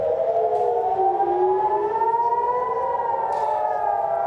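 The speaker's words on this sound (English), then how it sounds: "as we listen to those air raid sirens, Alistair," A wailing air raid siren in Israel during Iranian missile strikes rises and falls steadily, loud and sustained, with faint background noise beneath it and no voices.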